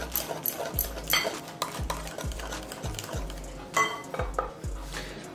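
Steel dishes, bowls and a spoon clatter and scrape in a home kitchen while mango yogurt is transferred for steamed mango bhapa doi, with repeated close knocks and clinks in an uneven rhythm.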